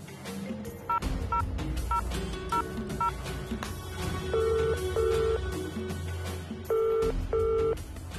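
Short tonal beeps of a phone being dialed sound in quick sequence, followed by longer ringing tones. The sound is faint and backed by low background hum.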